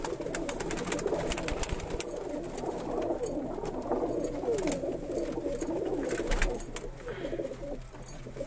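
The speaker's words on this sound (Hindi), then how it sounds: "ये नीचे लाल कबूतर है इंडियन।" Indian red pigeons cooing from a rooftop loft, soft repeated low coos overlapping one another against a steady outdoor background hum, fairly close and continuous.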